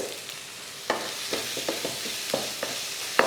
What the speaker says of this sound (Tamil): நல்லா ஒரு நிமிஷம் இந்த மாதிரி வதக்குனிங்கனாலே நல்லா வதங்கிடும்